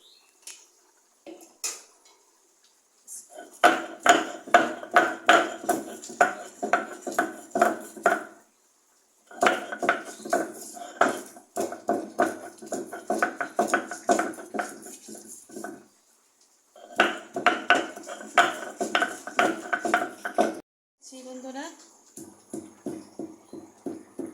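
Fried jackfruit seeds with onion and garlic being ground by hand, probably on a grinding stone, in a kitchen, making rhythmic scraping and knocking strokes in several long bursts separated by brief pauses.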